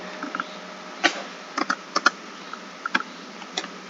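A computer keyboard tapped while a number is entered, a sparse handful of light, close keystroke clicks spread unevenly over a few seconds against a faint background hiss.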